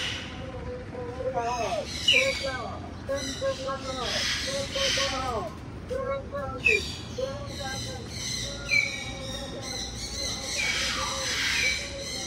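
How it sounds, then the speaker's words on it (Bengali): Birds at a bird-watching spot, including mynas, give repeated sharp, squeaky calls and whistles scattered across the stretch, fairly close and clear, mixed with loud background hiss. "আপনারা হয়তো পাখির শব্দগুলো শুনতে পাচ্ছেন,"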